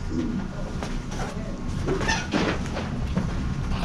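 Steady low rumble and rattling of a small mine tour train running along rails at the Queen Mine in Bisbee, Arizona, with faint clicks and a distant voice.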